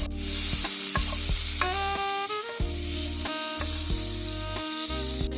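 Butter melts and sizzles in a pan for shrimp fettuccine alfredo, a steady close hiss with crackles under light background music, and no talking.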